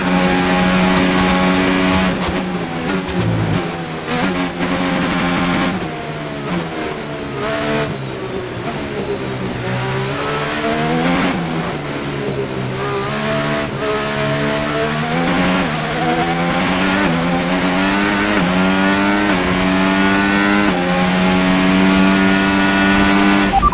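Engine of an F1 race car on the final lap of a race in F1 25, a loud, high-pitched scream that rises and falls through repeated gear shifts and revving, close and continuous with no talk.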